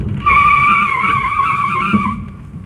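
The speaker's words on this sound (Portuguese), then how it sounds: "Então eu tô descendo aqui agora, frear." A Renault Sandero Stepway 1.6 16v braking while rolling downhill with a faulty master cylinder that grips only one side, giving a steady, loud scraping squeal of a dragging wheel that holds for about two seconds, with no talk.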